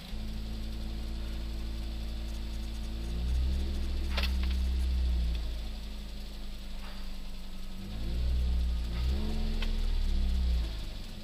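A Suzuki SX4 with Goodyear tyres drives along and slows, its engine and road rumble steady and close, with low tones shifting as the pace drops; no one speaks.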